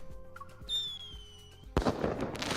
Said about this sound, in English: Aw, more fireworks.